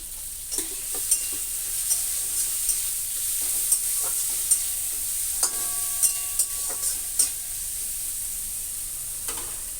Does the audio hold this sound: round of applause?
no